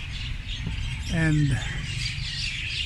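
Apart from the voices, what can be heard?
birds chirping loudly at a shrine near a night market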